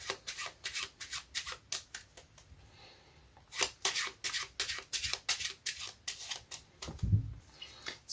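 Playing cards riffling through a false overhand shuffle, with a ace of spades on top and ace of hearts on the bottom of the deck; rapid, regular soft slaps and flutters repeated steadily, close and fairly quiet.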